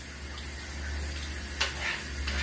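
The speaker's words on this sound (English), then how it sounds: "We're gonna keep the water running." A kitchen tap runs steadily, a close, continuous rush of water with a faint splash partway through and no talking.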